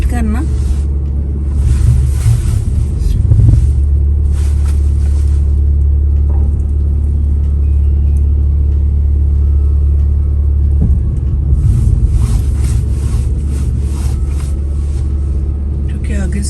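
Car engine idling and rumbling steadily as the vehicle slowly reverses through a heavy snowstorm in Quebec, a constant low drone close by, with someone speaking over it at times.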